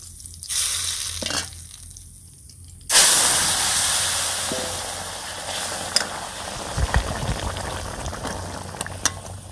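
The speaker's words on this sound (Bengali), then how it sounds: "আমি এই মাছটাকে ভেজে নিলাম।" Fish frying in oil in a pan, a steady sizzling hiss that bursts in loudly partway through and continues with small crackles and pops, preceded by quieter kitchen rustling.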